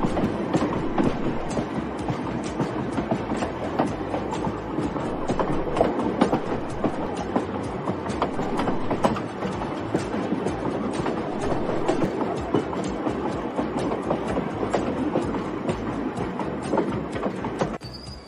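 A train rolls steadily along the rails with a continuous rumble and rhythmic clattering of wheels, loud and sustained throughout.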